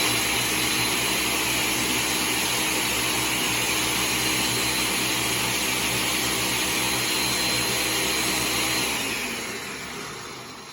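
A Ninja blender runs continuously with soapy water inside to clean itself, a loud, steady whirring motor drone close up, winding down near the end.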